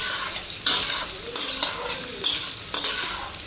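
Onion fries in a pan with a bright sizzle, and about four bursts of stirring scrapes and clatter rise over the steady frying hiss, heard close with no talking.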